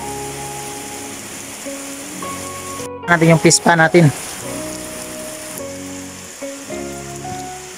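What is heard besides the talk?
heavy rain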